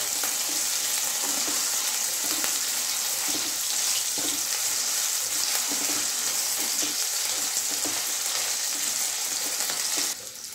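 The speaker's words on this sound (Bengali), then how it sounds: "আলুটা একটু ভেজে নেব হালকা করে" Potato pieces sizzle steadily in hot oil in a pan while being lightly fried for a radish curry, with occasional stirring scrapes and a continuous crackle that drops off at the very end.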